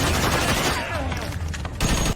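A rapid burst of gunfire crackles in quick succession, dense and loud, fading briefly before another sharp volley near the end, in a warehouse shootout in a film.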